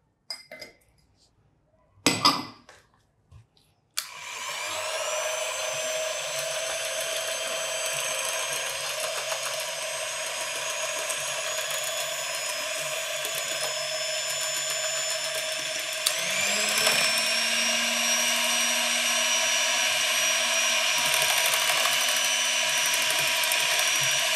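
A handheld electric beater whips cream with powdered sugar in a bowl, starting after a few brief clinks and then running as a steady, loud whine with a pitch shift partway through.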